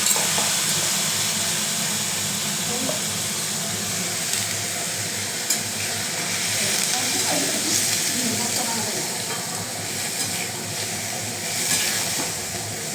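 Fish for morola macher tok slides into hot oil and fries with a steady, loud hiss and sizzle that runs without a break.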